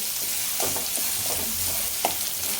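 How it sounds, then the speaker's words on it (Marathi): Onion sautéed in a pan for a spicy crab curry, a soft steady sizzle with light stirring scrapes and taps, close and unaccompanied by talk. "आता हा कांदा घालून हलकं हलकं परतायचं आहे"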